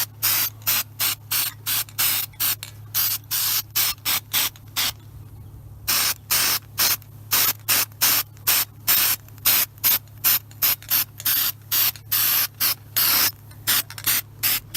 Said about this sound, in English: grind that down and spray paint it from there